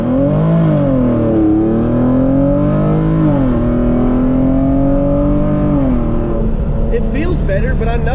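A tuned Hyundai Genesis Coupe 3.8 with full bolt-ons pulls hard from first gear at around 1500 RPM, engine note rising in a steady loud climb, then short-shifted with a brief drop before pulling again, ending with higher whine and clatter.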